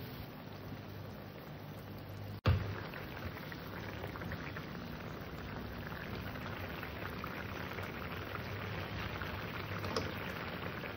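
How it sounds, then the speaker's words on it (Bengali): A thin potato curry with small fish simmering in a pot, a steady soft bubbling hiss throughout with a single sharp knock early on. "এবার সুন্দর করে তরকারিটাকে ফুটিয়ে নেব, যাতে আলু তরকারি সেদ্ধ হয়ে যায়"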